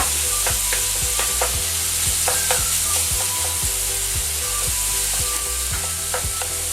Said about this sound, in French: là maintenant, je vais faire rissoler la viande